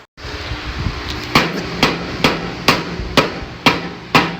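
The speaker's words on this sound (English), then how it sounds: "let's get that trusty hammer out, slam on that starter" Metal strikes ring out about every half second, eight sharp hammer blows against the starter of a Cub Cadet mower over a low mechanical hum.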